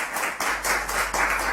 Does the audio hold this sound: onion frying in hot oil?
no